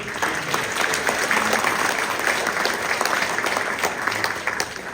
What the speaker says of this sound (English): Can you give a round of applause to honor band in Northwest Minnesota?